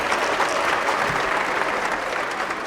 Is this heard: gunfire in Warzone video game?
no